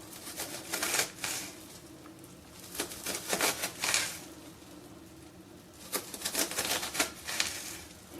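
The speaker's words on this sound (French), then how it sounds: "je vais pouvoir couper des tranches fines qui vont me donner des" Quick bursts of knife chops slice an onion into fine pieces on a cutting board in rapid, uneven clusters with short pauses between them.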